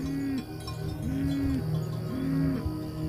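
Cattle kept inside a Maasai village low repeatedly, three long sustained moos close by, with a clanking cowbell and other farm sounds behind them and no speech.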